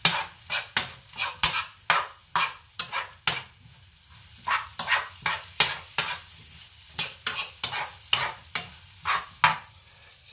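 A spoon stirs a generous amount of onions frying in butter in a pan, giving repeated scraping strokes in an uneven rhythm over a soft, steady sizzle, close up with no talking.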